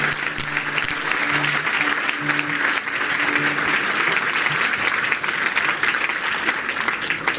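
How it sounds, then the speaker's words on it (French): A church congregation applauds and cheers for the Lord, a loud, sustained wall of clapping from a large crowd filling the whole stretch, with some voices mixed in. "Si vous êtes dans la joie, acclamez bien fort le Seigneur."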